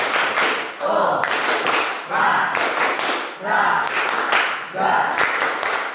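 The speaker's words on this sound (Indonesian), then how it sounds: "Tepuk olahraga." A class performs the 'tepuk olahraga' sports clap chant: repeated rhythmic sequences of claps and group chanting, in four evenly spaced bursts.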